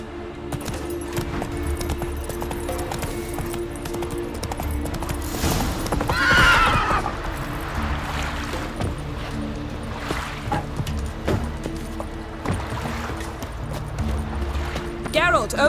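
Roach, a horse in The Witcher 3, gallops with quick, steady hoofbeats and gives a loud neigh partway through, with spoken dialogue heard over the hooves.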